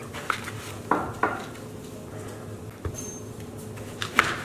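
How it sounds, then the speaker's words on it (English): A knife cutting down the center of a buffalo gourd squash on a cutting board: a handful of crisp, close clicks and knocks against the board, separated by short quiet gaps. "Cut it right down the center"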